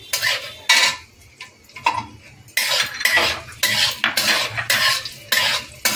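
Raisins stirred in hot ghee in a pan, a utensil clinking and scraping against the metal in repeated bursts with brief pauses, soft sizzle underneath, close and fairly loud, no talk.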